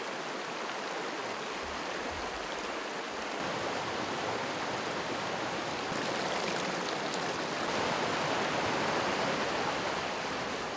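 A mountain stream flows beneath the Roháče peaks of Slovakia's Western Tatras, a steady, close, full rush of water that holds an even level throughout, with no voices.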